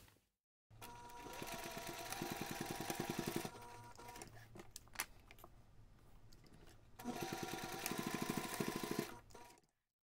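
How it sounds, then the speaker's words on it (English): Sewing machine basting the short fabric edges of a two-compartment backpack, running steadily in two long bursts separated by a quieter pause, close and alone. "next you can take this to the machine and baste those two shorter edges"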